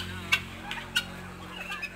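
Several short, harsh fowl calls, guinea fowl squawking at uneven intervals over a low steady engine-like hum, with turkeys nearby being fed papaya leaves.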